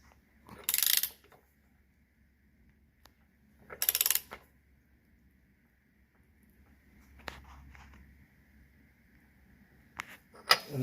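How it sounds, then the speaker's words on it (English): Socket tool driving a tangless thread insert into the deck of a Toro Recycler mower, giving a few separate ratcheting clicks and metallic clatters with long quiet gaps between them. "We're going to go ahead and grab our socket and drive her on home."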